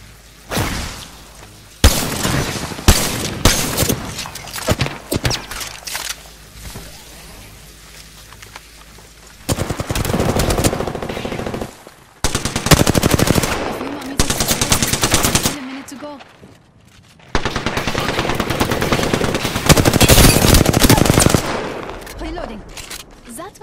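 Rapid automatic gunfire rattles in the shooter game Apex Legends, loud bursts broken by short pauses across the span, with a voice speaking at points between volleys.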